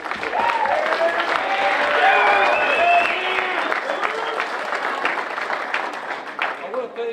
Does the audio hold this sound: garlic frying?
no